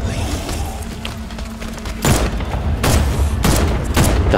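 Gunfire from a controlled mounted gun in Batman Arkham Knight, with several heavy booming bursts and thumps over a dense rumbling game soundscape, loud and close.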